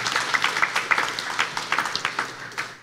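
An audience at the final of a student legal moot competition applauds the winning team, a thin scattering of individual claps, fairly quiet and uneven, with no voices.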